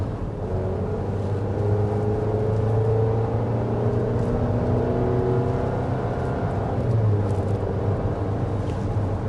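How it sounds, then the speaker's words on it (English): 2026 GMC Acadia Denali Ultimate engine accelerating, a steady coarse drone with rising and falling tonal whine, heard from inside the cabin for about nine seconds. "it does kind of sound strained just because it has that kind of coarse loudness to it as you accelerate"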